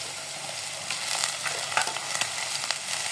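Ground onion paste fries in a pan for a prawn curry, a steady loud sizzle with bursts of crackle and a few sharper spits near the end, close by and without speech.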